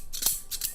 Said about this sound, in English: I always wanted scissors that sounded like that.